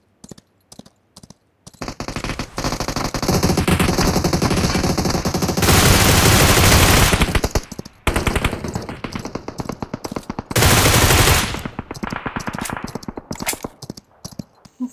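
Sustained automatic gunfire in PUBG Mobile, loud and near, with long continuous bursts of rapid shots broken by short gaps and scattered single shots at the start and end.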